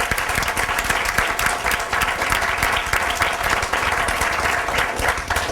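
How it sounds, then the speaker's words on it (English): A loud, dense round of applause from an audience thanking speakers at a session on immigrant workers, continuous and even from start to finish. "I'd like to give our speakers a round of applause"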